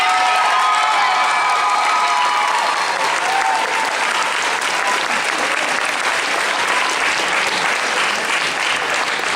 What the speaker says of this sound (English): One great big round of applause